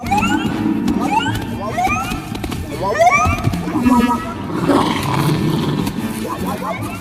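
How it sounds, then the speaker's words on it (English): A Star Wars varactyl creature call, built from a blend of dog, coyote and Tasmanian devil sounds, gives out loud, repeated, rising squeals and roaring growls in an exotic alien chorus that continues throughout. "I'm going with the Varactyl call from Obi-Wan's personal beast, Boga, which has a very exotic alien vibe"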